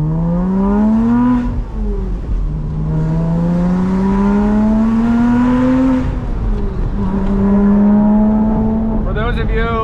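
Porsche Boxster Spyder with a manual gearbox driving on back roads, its engine droning loud and close with rising and falling pitch through acceleration and gear changes, continuous throughout.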